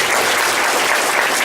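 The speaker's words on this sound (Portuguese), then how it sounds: "Uma salva de palmas" Audience applause at a Portuguese-language Spiritist gathering, a dense, steady wash of many hands clapping at once, loud and close, holding evenly without pause for the whole stretch and with no voices over it.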